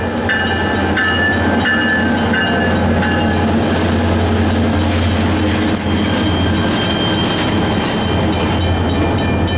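A train rolling past on the New England Central line, a loud sustained rumble of wheels and cars with a low engine drone, rhythmic rail clicks and brief tonal squeals, close and continuous throughout.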